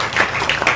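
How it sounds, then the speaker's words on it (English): An audience at a raptor talk begins clapping, a short burst of a few uneven, fairly close claps in under a second. "Can we clap?"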